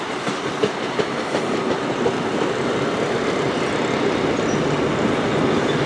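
A train with a green power car on the rear runs through Plymouth station, a loud, steady rumble with a clickety-clack of wheels on rail and some faint squeal, continuous throughout.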